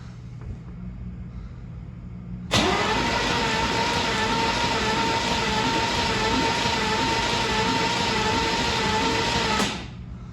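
A car engine fitted with a Holley Sniper 2 EFI fires on its first crank after a short quiet spell, then settles into a loud, steady, close-up run before abruptly shutting off.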